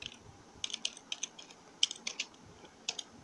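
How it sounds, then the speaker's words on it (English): Someone types a command on a computer keyboard, producing a quick irregular run of light, close key clicks in a quiet room. "You're gonna type in select volume 5."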